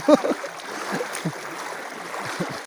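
Floodwater runs in a steady rushing stream near Mand Bullo, with a continuous broad wash of flowing water close by and occasional splashes and gurgles, plus faint voices in the background.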